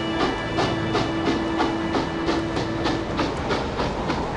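A train car in The Last Express video game rolls along its rails with a steady, repeating clickety-clack over a constant rumble and hiss, moderately loud and close, with no voices.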